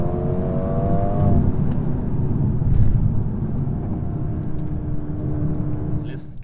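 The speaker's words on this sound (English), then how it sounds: "I hope the loud exhaust of the A35 does not scare this" A 2020 Mercedes-AMG A35 sedan drives a country back road, its loud exhaust booming with a steady engine hum that swells briefly, then eases off, with no speech over it.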